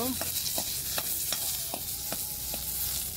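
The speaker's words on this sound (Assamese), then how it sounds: "এতিয়া মই মাংসখিনি ফ্ৰাই কৰি ল'ম আৰু তেল নিদিওঁ" Boiled pork frying without added oil in a pan, a steady close sizzle with a few brief stirring scrapes spread through.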